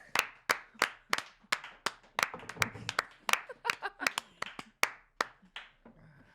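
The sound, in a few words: audience applauding a podcast host's entrance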